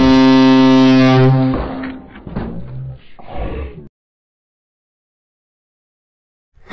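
A loud homemade horn for scaring away monkeys blasts a single deep, booming foghorn-like tone up close, then cuts off into rattling, clunky handling noises before several seconds of silence.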